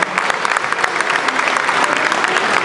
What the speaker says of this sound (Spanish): fuerte un aplauso para Rodolfo Lemos